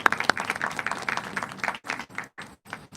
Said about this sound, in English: give a round of applause to the members of the Business Task Force